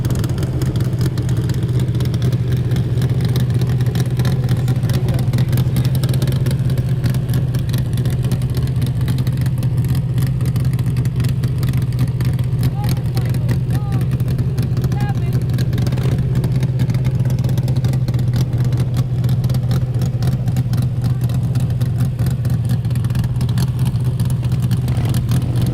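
A 1000cc-class land-speed motorcycle runs out on the dry lakebed course at El Mirage, a steady, continuous engine drone heard from a distance with no break throughout.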